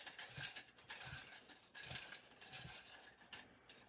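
Paper drawing entries for a prize draw stirred around in a container, a soft rustling shuffle in repeated short bursts with faint clinks, close and fairly quiet.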